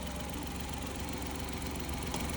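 A DA65 engine idles steadily and evenly, a continuous low rumble with a faint vibrating hum, no voices.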